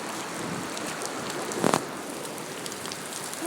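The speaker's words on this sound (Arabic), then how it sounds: "مطر مطر مطر." Heavy rain falls in Hail, a steady hiss of drops hitting surfaces with brief louder splashes and some wind, heard up close and moderately loud with no talking.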